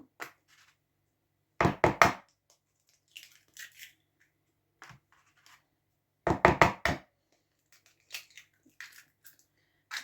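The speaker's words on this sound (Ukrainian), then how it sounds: "Зараз я вб'ю ще до тіста 4 курячих яйця." Four chicken eggs cracked into a liver and flour batter: sharp, close knocks and crunchy cracks in two short clustered bursts, separated by quiet with a few faint small clicks.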